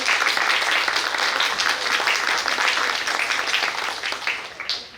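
Audience applause after a talk at a medical course session, steady dense clapping filling the room for about five seconds, tapering slightly at the end.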